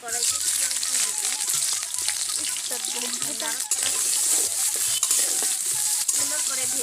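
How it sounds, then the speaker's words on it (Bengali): Onions frying in oil in a wok over a paper-lit stove, with a continuous close sizzle and stirring scrapes. Faint voices can be heard in the background. "কড়াইতে পেঁয়াজ দিয়ে দিব।"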